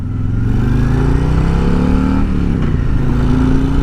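A Harley-Davidson Road Glide Special motorcycle engine runs loud and close, a deep rumbling drone that dips and rises as gears shift, with the pitch climbing again after each change.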